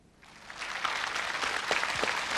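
Studio audience applause on a Russian TV game show swells quickly from near silence into dense, sustained clapping, loud and close, with no talk over it.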